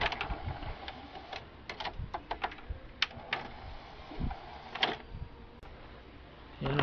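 Sony Shake-X10D stereo CD player under repair, its disc mechanism loading and reading a CD with faint irregular clicks, ticks and small motor whirs over quiet background noise.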